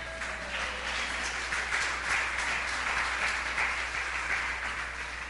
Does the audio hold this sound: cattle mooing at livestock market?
no